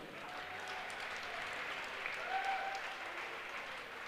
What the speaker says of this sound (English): let's have a big round of applause for all 4 of our 2021 North Catholic boys basketball seniors.